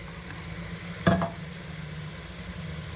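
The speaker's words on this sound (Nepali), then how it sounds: "मासु चाहिँ फ्राई भइसकेको छ एकदमै राम्रोसँग। अब यसमा चाहिँ म पिसेको मसला हाल्दैछु।" Goat meat frying in a pan as ground masala goes in, a steady low sizzle with one sharp stirring clatter near the one-second mark, close and alone with no talk.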